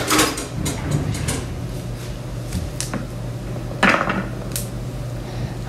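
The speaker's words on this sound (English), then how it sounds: "I'm just gonna mix the meat" Ground meat and onion are mixed in a bowl, giving scattered clinks and knocks of utensil against the dish over a low steady hum, with a sharper clatter near the end.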